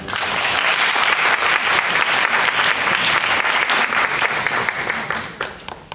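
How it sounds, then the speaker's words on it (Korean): A lecture audience claps continuously to welcome a fourth-year medical resident being introduced, a fairly loud, even burst of many hands that thins out near the end. "좀 박수로 한번 먼저 하겠습니다"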